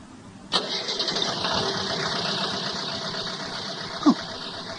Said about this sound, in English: At that moment, Marcel hears a motor start.